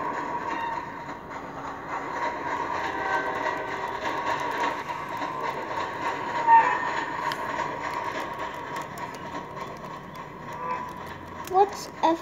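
Video game train rumbling and clattering steadily under continuous talk from players, with a few brief louder knocks near the end.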